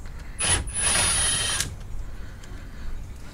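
A compact Milwaukee power tool whirs in one loud burst of about a second, with a brief pause, while removing bolts during a transmission fluid and filter change on a 2017 Honda Ridgeline or 2016 Honda Pilot.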